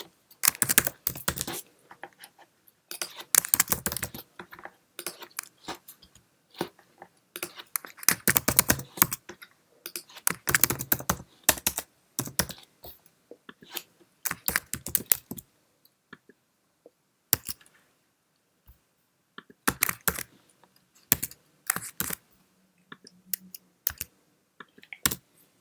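Typing on a Mac computer keyboard to fill in a Microsoft Teams table: quick bursts of crisp key clicks separated by pauses, close and clear, with no talking.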